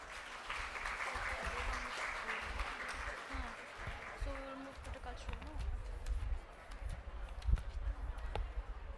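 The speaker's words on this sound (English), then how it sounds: "please join me in welcoming our Honorable Chancellor Sir with a big round of" At a national conference, an audience gives a round of applause with scattered, fairly faint clapping that thins out over several seconds, with some background noise.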